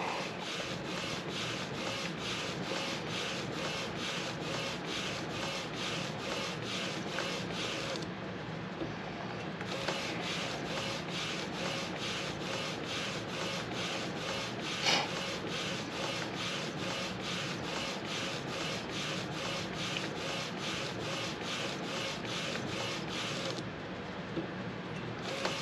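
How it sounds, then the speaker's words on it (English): An Epson P600 printer runs a DTF film print, giving a steady, dense mechanical rubbing and whirring of the carriage with regular pass-by-pass rhythm, close and continuous with brief changes in texture, and no talking. "this is a P600 Epson printer, so it's significantly faster than like the L1800 models."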